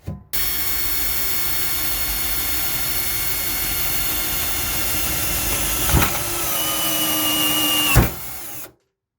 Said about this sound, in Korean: 13mm 홀수를 연결해 가지고 정수기를 연결시킬 그 싱크대 윗부분을 이렇게 뚫어줍니다